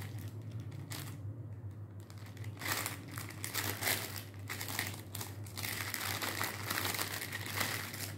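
A skull face mask is pulled out of a crinkling plastic shopping bag, giving close, continuous rustling and crackling with a few sharp bursts and brief pauses, loud and with no speech.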